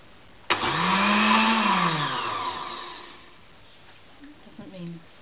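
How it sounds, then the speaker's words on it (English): Kitchen blender whirring through broccoli soup with milk: a loud motor whine that rises, holds for about two and a half seconds and then winds down, followed by brief faint sounds. "And then you're going to blend it. I'm going to blend it."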